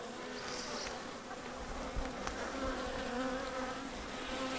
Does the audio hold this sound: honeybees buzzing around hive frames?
yes